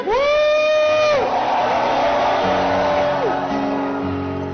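A church congregation at a French-language prayer service shouts and cheers loudly together, a sustained crowd roar with rising, wavering voices that slowly settles.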